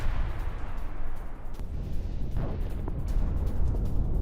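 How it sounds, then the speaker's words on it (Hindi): Explosions from drone attacks on an oil terminal at Luga port. They come as a loud, continuous rumbling roar with heavy low booms and scattered bursts throughout. "उस लूगा पोर्ट पर ड्रोन हमलों से विस्फोट"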